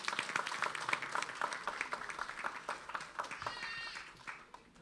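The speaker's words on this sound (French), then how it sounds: "Je vous demande d'applaudir chaudement la sœur Kasma et sa fille" Congregation applauding in a church service, a moderate spread of overlapping claps filling the room, with voices talking and some tonal sound rising near the end.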